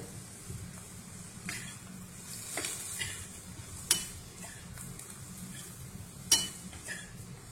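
Cluster beans roast in a pan with a faint, steady sizzle and occasional sharp clicks of a utensil scraping and stirring, close but quiet.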